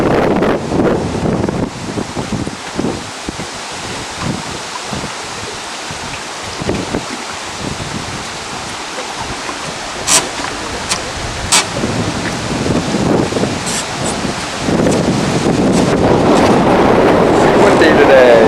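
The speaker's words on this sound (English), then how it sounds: "Pretty windy." Strong wind roars by the sea on a fishing outing, buffeting the microphone with loud, continuous rumbling gusts that build toward the end, while a person talks intermittently.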